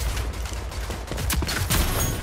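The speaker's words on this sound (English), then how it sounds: "This shotgun is way better already." Shotgun blasts in the Rogue Company video game, a few heavy booming shots in quick succession over a dense rumbling game soundtrack.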